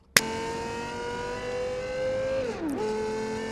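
Toyota GR GT car with an 8-speed gearbox in a racing video game at Monza, engine droning at a steady high pitch after a sharp start, then dropping briefly for a gear shift before holding again, with no talk.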